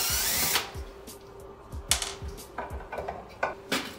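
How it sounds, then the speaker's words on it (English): A power drill fitted with an Allen key whirs in short bursts as Allen screws are backed out of an underwater LED light bar, with small metallic clicks and taps between spins, close up. "I just put an Allen key in my drill to remove all these Allen screws"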